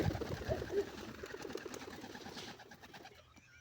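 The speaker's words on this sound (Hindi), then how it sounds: "ये कौन है कबूतर है" Pigeons coo close by in soft, rhythmic, throaty phrases that fade toward the end.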